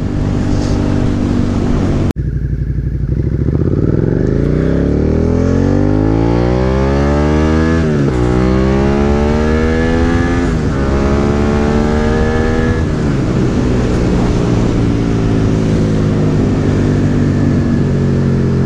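A 2017 Suzuki SV650 motorcycle accelerates hard through several gears, its engine note climbing and dropping with each shift, loud and close with wind rush in a snowy setting.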